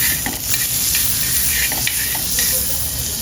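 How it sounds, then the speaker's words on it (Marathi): Butter sizzles and crackles on a hot tawa griddle, a steady bright frying hiss with small pops and a faint scrape or stir, close and continuous. "त्याच्यावरती मी थोडंसं बटर सोडते"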